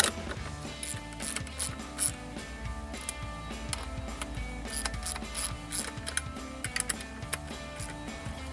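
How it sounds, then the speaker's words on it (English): A ratchet tightens the throttle body bolts on a RAM 1500 being fitted with a Granatelli 95mm throttle body, with rapid repeated ratcheting clicks running steadily close by. "Next, fully torque your bolts down, making sure to tighten in an X pattern yet again."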